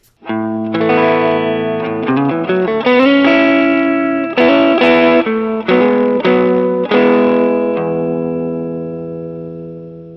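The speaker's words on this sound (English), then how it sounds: "now we're going to do a treble boost and a bass cut and see what that sounds like" An electric guitar plays a short melodic phrase with a bright, thin tone and little low end, ringing out and fading at the end.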